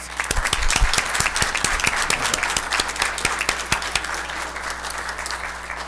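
A round of applause fills a city council chamber as an honoree is recognized, with many hands clapping in a steady, moderately loud patter with a few sharp individual claps for about six seconds.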